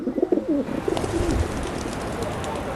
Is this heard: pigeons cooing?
yes